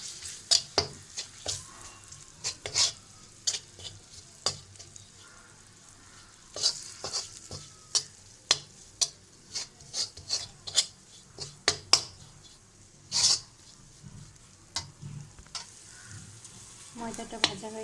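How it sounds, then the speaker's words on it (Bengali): Flour frying in butter and oil, stirred in a pan for Russian donuts: close, repeated scraping strokes at an irregular rhythm over a soft background sizzle. "ময়দাটাকে বাটার আর তেলের সাথে ভেজে নেব।"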